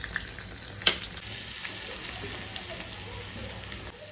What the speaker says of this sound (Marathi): आपली लसूण छान कढली आहे.